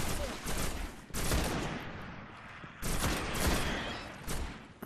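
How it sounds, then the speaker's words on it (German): Rapid gunfire in the Destiny beta on PS4 comes in dense, overlapping bursts, with heavy volleys near the start and again midway, filling the space with continuous shooting. "Wie wir alle auf die schießen hier."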